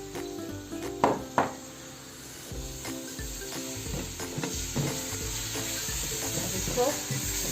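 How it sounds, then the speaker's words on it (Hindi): Chicken mince with garlic and onion frying in oil, a steady close sizzle with the clink and scrape of stirring and a few sharp knocks, under faint background music. "अब इसको ऑयल में भूनें"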